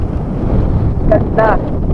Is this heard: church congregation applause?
no